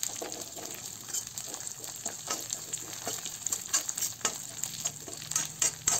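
Green peas fry with browned onions in a pan, a moderate continuous sizzle broken by frequent scraping and stirring knocks, close by with no talking.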